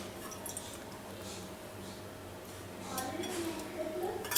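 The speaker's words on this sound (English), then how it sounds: "I'm going to take a little bit of water and just sprinkle it on our seeds here." Water sprinkled by hand over sprouted chia and mustard seeds on a countertop tray gives soft, scattered drips and light splashes, quiet at first and growing a little busier toward the end.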